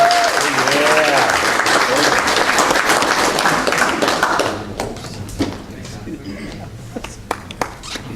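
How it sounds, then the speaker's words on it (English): Audience applause fills the room at a mortgage company event with a giveaway, dense and loud at first, then thinning out to scattered claps under talk. "How about a nice round of applause?"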